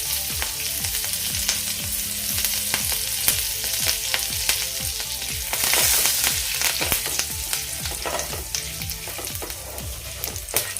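Chili flakes and chopped curry leaves sautéing in a pan for instant rava idli: a steady, fairly loud sizzle runs throughout, broken by frequent scraping and stirring clicks of a spoon, with no talking.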